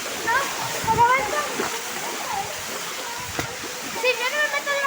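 A waterfall roars in a steady, broadband rush close by, with children's excited voices calling and shouting over the falling water.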